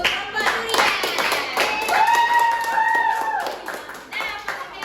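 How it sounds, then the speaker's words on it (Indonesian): A classroom of students breaks into applause with brisk, dense clapping, mixed with young voices calling out over the hands. "Berikan aplaus untuk kelompok durian."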